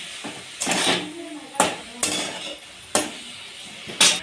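Several sharp metallic clanks as a griddle is set on a stove and pans knock together, irregular and close, with quiet pauses between them.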